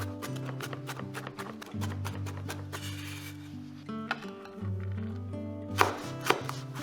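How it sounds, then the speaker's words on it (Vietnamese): Rapid, rhythmic knife taps on a cutting board mince 30g of garlic up close, with a few louder chops near the end over quiet background music. "Và băm nhuyễn thêm 30g tỏi để cho vô nước mắm nè."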